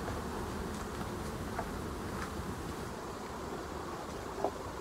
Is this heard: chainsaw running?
no